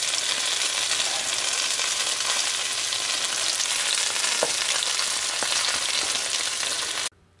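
Sea robin roe coated in cornmeal fries in a pan, giving a loud, dense, continuous sizzle with a few faint clicks, cutting off abruptly at the end.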